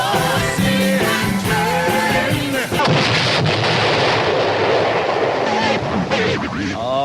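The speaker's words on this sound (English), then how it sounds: "there it goes again, ladies and gentlemen. Oh, what a shame. The magic cannon." A magic cannon sound effect on a morning radio show, a booming blast and rumble breaking in after music, with talk alongside it.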